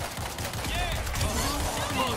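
Rapid gunfire from a rifle emptying its magazine in the zombie shooter World War Z, a dense stream of shots in a tunnel fight, with game sounds and voices over it.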